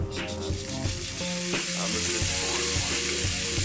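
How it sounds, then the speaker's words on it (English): Tomatoes hit a pan of caramelized onions and garlic, giving a steady close sizzle with some clatter from stirring, alone without voices. "Now, we're gonna throw in our tomatoes."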